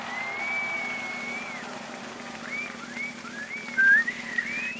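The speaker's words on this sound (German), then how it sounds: "ich kann nicht so toll pfeifen, sorry." A person whistles a wavering tune, a long held note and then several sliding phrases, close and moderately loud over a low steady hum.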